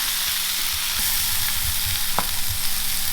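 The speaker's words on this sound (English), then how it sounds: "now we are finishing them in the pan with our garlic and basil" Boiled potatoes fry in a pan with garlic and basil, giving a steady dense sizzle with a few soft stirring knocks and scrapes, close up and without talk.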